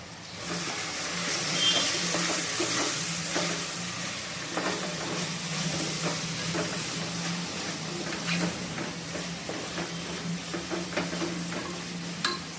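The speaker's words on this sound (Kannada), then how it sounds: "ಅದರೊಳಗಡೆ ಡೈರೆಕ್ಟಾಗಿ ಹಾಕೋಣ ಹಾಕ್ಬಿಟ್ಟು ಚೆನ್ನಾಗಿ ಫ್ರೈ ಮಾಡೋಣ" Spice powders for egg biryani fry in oil with a continuous hissing sizzle and repeated soft stirring scrapes, steady and close.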